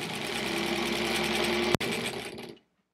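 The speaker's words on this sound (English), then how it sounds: "This is kind of my first real-time sewing on this, actually." A 1938 Kenmore model 38 sewing machine hums and clatters steadily at speed while stitching half square triangles, with a sharp click near the end before it stops.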